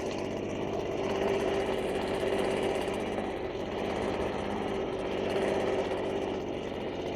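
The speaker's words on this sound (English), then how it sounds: "Quite effective is the leaf blower, even on idle." A leaf blower idling outdoors during solo hazard-reduction burning in Australia, giving a steady, even engine drone with a faint tonal hum that runs unbroken from start to finish.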